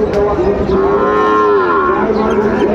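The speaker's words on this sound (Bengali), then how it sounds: "শাহিওয়ালের বাচ্চা।" A Sahiwal bull calf moos in one long, sustained call at a busy cattle market in Dinajpur, loud and close against a steady background of crowd noise.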